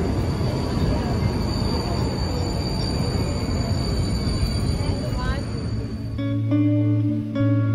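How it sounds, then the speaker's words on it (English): Vienna tram ride heard from on board, with a rumbling, rattling run of wheels on rails and faint squeals, then the rolling noise drops away near the end as a steady tonal hum and chime-like tones take over. "Next thing we're going to do is we're going to actually take the tram"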